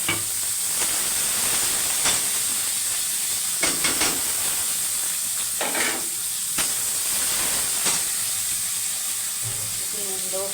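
Chopped onion fries with bay leaf, cardamom, cloves and cinnamon in hot oil, giving a steady close hiss and sizzle broken by a few sharper stirring scrapes and clinks, with no voice.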